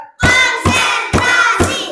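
Classroom pupils clap in unison on a counting cue, four loud, sharp group claps in a steady rhythm, close and dominant, with ringing room tone between them.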